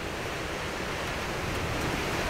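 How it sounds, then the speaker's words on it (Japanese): Strong gusts of wind at a campsite roar steadily against the microphone, a dense continuous rush with no breaks and no talk. "むちゃくちゃ突風が吹いてきて、"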